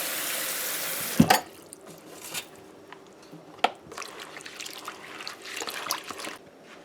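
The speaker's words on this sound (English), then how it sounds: "you're going to wash your seim after you clean and cut them up" Water splashes and swishes in a bowl as chopped seim is rinsed by hand, with a few sharper sloshes and soft squishing sounds.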